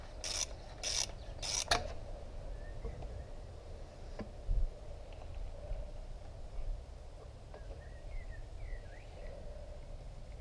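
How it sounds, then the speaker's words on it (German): Ratcheting clicks from unscrewing the fork end cap on a Honda NTV 650 during a fork spring installation, with a few sharp bursts near the start, then quieter mechanical ticks and clunks. "Wir können jetzt die Endkappe abschrauben."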